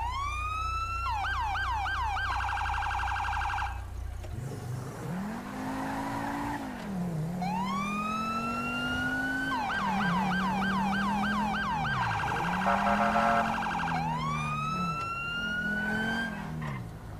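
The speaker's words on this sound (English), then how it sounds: "let you guys hear the sirens and the air horn and all that" Modded video game police sirens wailing and yelping in cycling tones, loud and continuous, with an air-horn blast and a low engine drone underneath.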